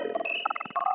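Access Virus TI synthesizer playing a sample-and-hold psytrance preset: a quiet stream of rapid, randomly stepping pitched blips with shifting tone, heard alone and fairly soft.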